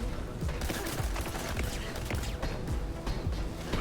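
Video game gunfire aimed at the player, dense rapid volleys of shots rattling continuously and fairly loud throughout.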